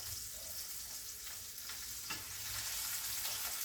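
Fish fillets frying in a pan, a faint steady sizzle with occasional soft crackles, no voices.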